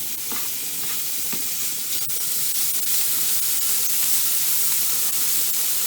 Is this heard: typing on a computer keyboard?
no